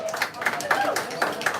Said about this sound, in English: Round of applause for On-Chain Scholar.